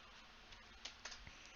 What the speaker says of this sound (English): just make sure you keep typing yes to all the prompts